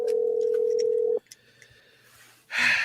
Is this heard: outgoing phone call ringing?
yes